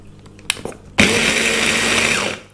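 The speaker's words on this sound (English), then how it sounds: "I'm just going to put the lid on the hand blender, switch it on, and we're just going to blitz this" A hand blender with its lid on blitzes a tikka-style mixture, starting abruptly after a couple of faint clicks and running as a loud, steady whir for over a second before winding down.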